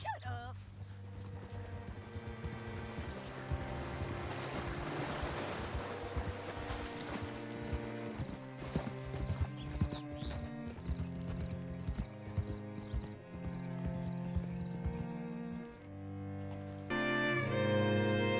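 Horse hooves clip-clop steadily while riding in Red Dead Redemption 2, mixed under game music and ambient water sounds.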